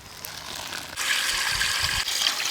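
Tap water gushing to rinse foam off boiled beef bones in a kitchen, a steady close splashing rush that grows louder and fuller partway through, with no voices.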